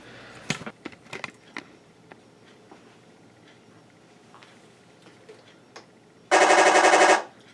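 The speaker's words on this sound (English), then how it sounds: "Now that's the machine gun I really like." Simulated machine gun fire from an IBU2 sound unit in a Torro King Tiger model tank: a loud, dense one-second rattle near the end, after scattered clicks and taps, with no talk.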